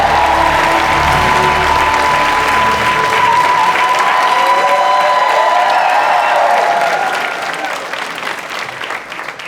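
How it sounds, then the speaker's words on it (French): An audience at a live comedy awards-show event bursts into sustained, loud applause with scattered cheers, a dense wash of clapping that holds steady for several seconds before gradually thinning out. "Alors faites du bruit pour Tatiana, s'il vous plaît."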